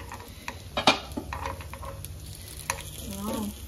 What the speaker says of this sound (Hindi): मैं इस पर ऊपर से डाल रही हूँ थोड़ा थोड़ा सा ऑयल ताकि जब मैं इनको पलटू तो ये दूसरी तरफ भी ऑयल में सिक जाए